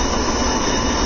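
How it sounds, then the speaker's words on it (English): A military jet taxis past another parked, idling jet, producing a loud, steady broadband engine roar with a high whine running through it for the whole moment, and no voices. "the rest of the squadron taxis out past an idle number 6 jet"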